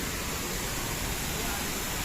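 A waterfall pours in a steady, even rush of broadband noise heard from a short distance, unbroken for the whole moment.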